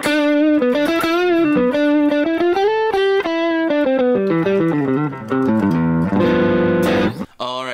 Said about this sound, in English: This is generally how you would maybe use this pedal for like an overdriven amp, like a Mesa Boogie dual rectifier.